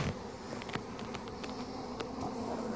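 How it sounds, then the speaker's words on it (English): Bees swarm in an opened beehive during a spring inspection in Trinity, North Carolina, a dense, steady buzzing hum close by with small scattered clicks and no speech. "A lot of bees."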